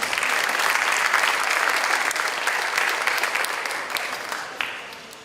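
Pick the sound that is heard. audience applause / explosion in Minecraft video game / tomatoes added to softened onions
audience applause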